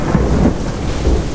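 Steady heavy rain hisses loudly throughout, with low thunder rumbling beneath it.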